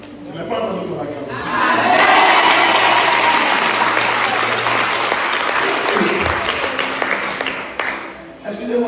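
A church audience at a teaching service bursts into loud, sustained applause and cheering, swelling after a brief lead-in and holding full and dense for several seconds before tapering slightly, with a few voices mixed in.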